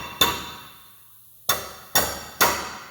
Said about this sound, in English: You gotta hit it with a hammer.